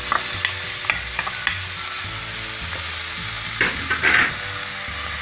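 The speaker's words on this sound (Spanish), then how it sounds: "Y vamos a empezar a freír, a dorar nuestra cebolla" Diced onion frying in hot oil makes a strong, constant sizzle, with a spoon scraping and stirring through it in short bursts, near and loud with no talking.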